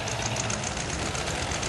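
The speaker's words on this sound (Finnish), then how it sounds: "nyt sitten setorit, pankaapa vähän hanaa sieltä, kun on kovin vaisua" Vintage Czechoslovak Zetor tractor engines run at an old-machinery show in Oulainen, Finland, in 2004, giving a steady, dense mechanical chugging and rumble with no voices.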